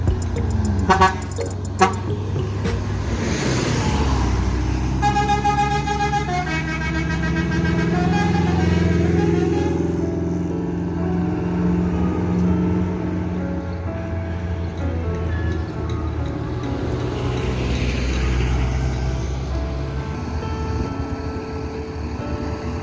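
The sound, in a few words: ANS Johnnie Walker bus arriving at Solok bus terminal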